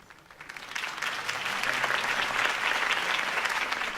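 Sustained applause rises from a crowd after a campaign speech, swelling in the first second and then holding steady and full, with no talking over it.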